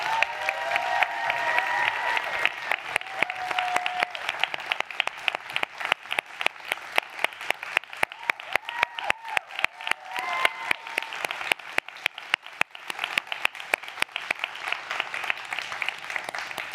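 Sustained applause fills a large audience hall as the 2023 SolveEd innovators are welcomed to the stage at an MIT Solve live event, with dense steady clapping and a few faint voices beneath.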